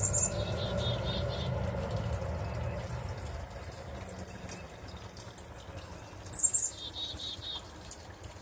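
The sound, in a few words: birds singing in the morning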